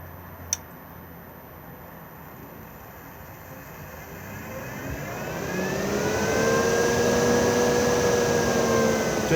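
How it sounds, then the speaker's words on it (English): The roof vent fan of an Elddis Majestic 125 caravan spins its blades in reverse to draw air in. A whirring motor tone rises steadily in pitch and loudness, then holds a smooth whine. "the blades will begin to spin in the opposite direction and draw air in"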